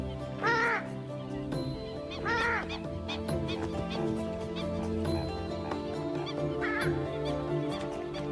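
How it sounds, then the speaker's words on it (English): A purple swamp hen, also called the sultana bird, gives loud, explosive honking calls in a few separate bursts over steady jungle background noise. "This is the purple swamp hen, also called the sultana bird, famed for its very loud,"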